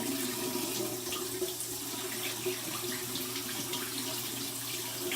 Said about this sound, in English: we're going to go ahead and go with my cold water rinse